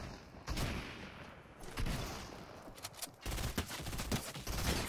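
FAMAS gunfire in the video game Fortnite, bursts of rapid shots layered over dense, noisy game sound and continuing for several seconds, loud and busy.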